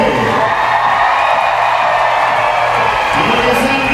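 A crowd answers an announcer with cheering, whoops and yells, a dense, loud, sustained roar of many voices with scattered shouts across the whole stretch.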